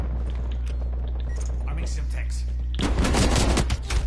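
Shotgun fire in Call of Duty: Cold War: a dense burst of loud, rapid blasts arrives near the end, after a stretch of low rumbling game noise.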